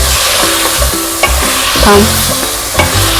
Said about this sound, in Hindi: प्याज को भूनेंगे, थोड़ा सा इसको सौते कर देंगे